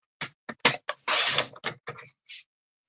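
Cardstock is cut into strips for an accordion fold card, giving a quick series of close, crisp slicing and scraping strokes, one longer central stroke and several short snips.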